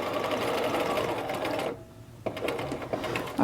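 A sewing machine stitches the final seam on a raglan sleeve for a McCall's 7862 garment, running loud and steady, pausing briefly, then starting up again.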